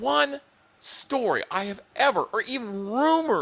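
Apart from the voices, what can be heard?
No everyday noises stand out.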